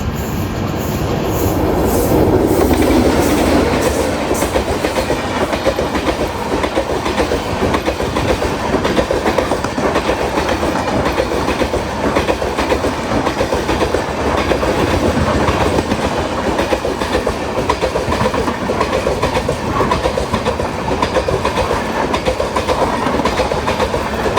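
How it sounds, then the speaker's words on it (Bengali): Mangala Lakshadweep Express rushing past at close range, a loud continuous roar of rolling wagons with steady clickety-clack of wheels over rail joints running the whole time, with no talk. "ক্রস করবে মঙ্গলা লাক্ষাদ্বীপ এক্সপ্রেস"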